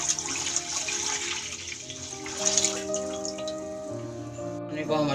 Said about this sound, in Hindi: पहले हम मैगी के लिए एक जग पानी डाल रहे हैं कढ़ाई में